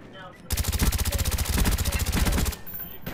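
Rapid automatic gunfire in Call of Duty Black Ops 1 Zombies on the Kino der Toten map: a single sustained burst of about two seconds, loud and close, with quieter game ambience before and after and no talk.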